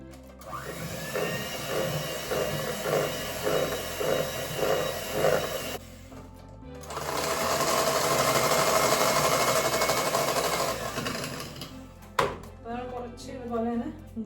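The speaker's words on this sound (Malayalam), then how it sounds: "അപ്പോൾ ഞാൻ എന്തായാലും ഒന്ന് മിക്സ് ആക്കട്ടെ." Electric hand mixer beating butter for tea cake batter, a steady motor whir with rhythmic pulsing that stops, then restarts louder and fuller for several seconds before cutting off into faint clatter.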